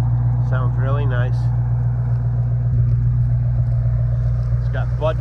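A restored 1966 Ford Mustang convertible with a 289 V8 and dual stainless exhaust with an X pipe idles in a steady, deep rumble throughout, with someone talking over it at the start and end.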